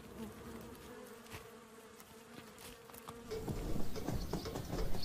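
Wild bees buzz close by as a steady humming drone that grows louder and busier near the end, with no talk over it.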